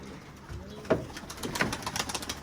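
Temkinli pigeons coo and settle onto a roof, with a couple of brief call bursts and light fluttering over a steady low outdoor hum.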